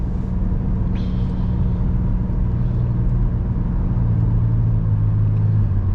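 A car pulls away and accelerates after a left turn on a road, its engine rumbling steadily and rising in a continuous low drone near the cabin, with no talk.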